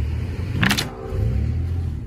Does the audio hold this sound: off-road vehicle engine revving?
yes